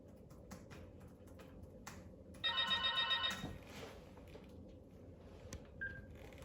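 Telephone ringing once in a quiet office, a short electronic ring burst lasting about a second, moderately close over a low background hum, with no talk during it.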